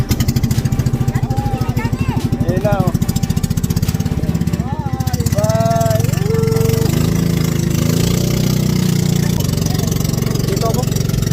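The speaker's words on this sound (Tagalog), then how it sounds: "Ay, may motor naman pala." A small boat's motor runs steadily throughout near Maniwaya in Marinduque, a continuous mid-pitched engine drone with people talking over it.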